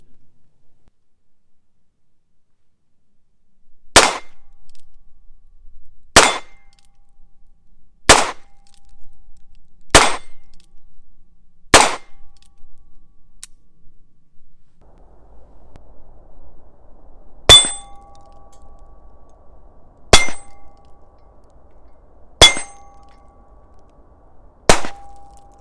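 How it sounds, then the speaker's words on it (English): A .22 Magnum revolver fired at a steel plate produces nine sharp metallic clangs, five evenly spaced, then a pause and four more, distant and ringing with no talk. "Let's go see how the Magnum rings that steel plate."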